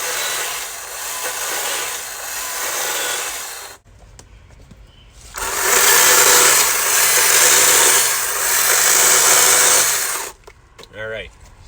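A chainsaw cuts through a 2x4 held in a vise while carving mini bears, two loud sustained bursts of buzzing engine whine separated by a brief idle pause, ending with a short sputter.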